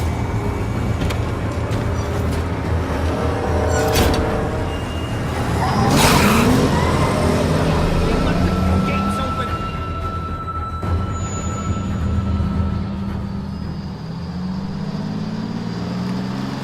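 A car engine idles steadily in The Walking Dead video game, a continuous low rumble with some whooshing passes and brief sharper noises, no talking.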